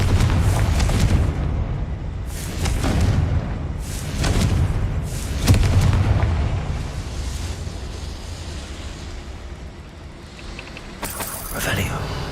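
The Confringo fire spell in the Hogwarts Legacy video game bursts in several loud, booming blasts spaced a second or two apart, with voices talking over the action.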